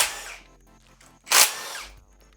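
Power tool spinning out the reverse servo bolts on a 4L80E transmission during a rebuild, two short whirring bursts, the second louder and sharper, with a quiet pause between them.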